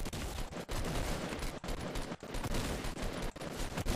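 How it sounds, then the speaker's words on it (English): Shotgun fire in Fortnite at Tilted Towers: heavy, sharp blasts spaced about a second apart over a dense, noisy mix of game sound, fairly faint overall. "this is a shotgun"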